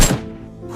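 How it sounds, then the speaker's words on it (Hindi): A cartoon old man fires a gun at zombies at a railway station. One sharp, punchy shot rings out and quickly decays into a faint tail. "ये बूढ़ा आदमी ज़ॉम्बीज़ पे गोली चलाने लगता है"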